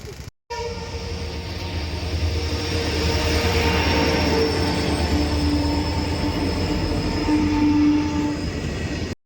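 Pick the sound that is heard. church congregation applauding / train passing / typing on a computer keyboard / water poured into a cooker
train passing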